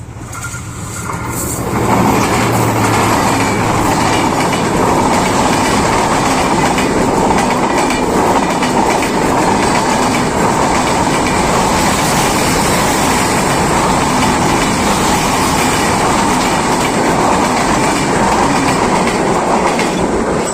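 A train passes close by on a railway line, a loud, steady roar of wheels and rolling cars rising quickly after a quiet start and holding for about twenty seconds, with faint rhythmic clatter and no talking.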